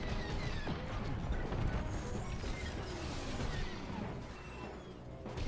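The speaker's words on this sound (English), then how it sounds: "A missile here. Boom." A missile explodes in Star Wars Squadrons space combat flown in a TIE Defender, a loud, dense roaring blast that stays full and rumbling for several seconds with crackling debris layered on top.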